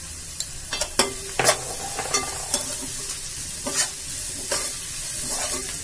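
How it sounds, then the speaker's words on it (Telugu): Onions frying in a pan with a steady sizzle, a spoon scraping and stirring in irregular close strokes over the hiss. "ఆనియన్స్ అన్ని ఫ్రై అయిపోయాయి"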